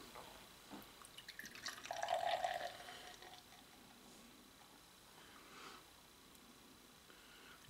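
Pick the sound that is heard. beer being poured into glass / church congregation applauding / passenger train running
beer being poured into glass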